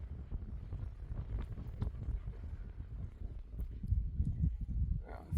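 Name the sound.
wind blowing outdoors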